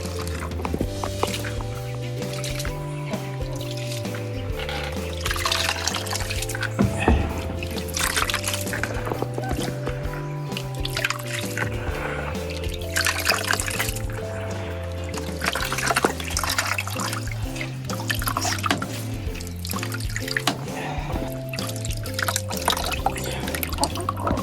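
Water pouring into a cooking pot while laing, taro leaves in coconut milk, is prepared over a fire; a steady, continuous liquid pour with light trickling runs under background music throughout.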